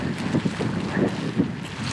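Wind buffets across open moorland in wet, poor-visibility weather, a steady low roar with gusty surges close to the microphone, continuous through the whole stretch.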